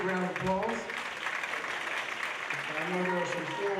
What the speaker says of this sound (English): They're going, a big round of applause.